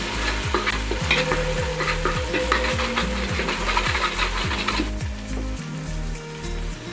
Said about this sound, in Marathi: गरम मसाला टाकून पुन्हा एकदा सर्व मिश्रण आपल्याला व्यवस्थित हलवून घ्यायचं